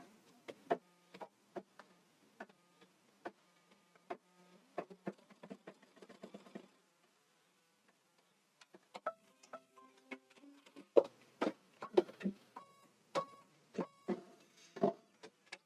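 An embroidery machine stitching a hoop sample, making soft rapid ticking and tapping in uneven bursts, faint and close, with a brief pause partway through before the stitching resumes.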